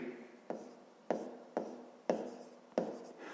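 A pen or chalk scratches out a maths exercise in short, repeated strokes, five sharp taps and scrapes at a steady pace, close and distinct, with no talking.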